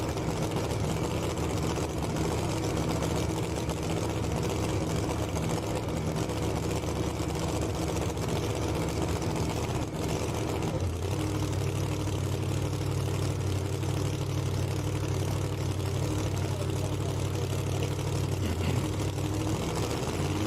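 A 2018 C7 Corvette drag car engine running during blower tuning, a loud continuous low rumbling drone with a steady hum that deepens partway through.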